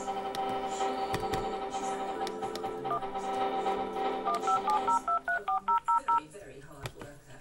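Telephone keypad dialing tones, a rapid run of short evenly spaced beeps near the end, following a stretch of steady tones and voices talking.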